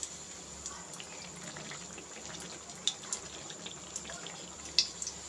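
Semolina and banana batter fries in oil on low heat for malpua pitha, giving a soft, steady sizzle with scattered faint pops, close up and quiet.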